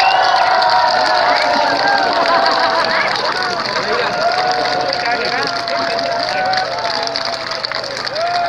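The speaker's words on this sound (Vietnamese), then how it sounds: "các bà con đưa tay lên, vỗ tay cái rồi hô to lên thôi" A studio audience at a Vietnamese charity television show claps and cheers on cue: loud, sustained crowd shouting and hooting over a dense wash of applause.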